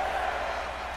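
Wrestling arena crowd in WWE 2K24 during a Scott Steiner versus Booker T match, a steady, dense roar of cheering that holds at an even level for the whole second.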